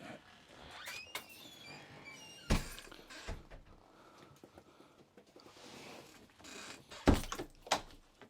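A door shuts with a sharp close thud, then a second heavier thump several seconds later, amid quiet handling noises and faint rustling in a home.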